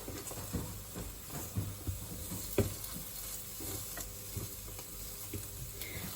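Halloumi fries in a pan with a steady, soft sizzle, and quiet scrapes and taps from stirring break through now and then.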